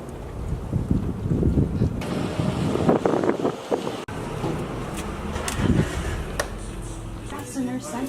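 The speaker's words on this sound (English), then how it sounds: "Good old Two Harbors traffic." Road traffic in Two Harbors, vehicles rushing past close by with a broad whooshing roar and wind buffeting, a couple of distinct passes with louder swells and a brief cut, no clear speech.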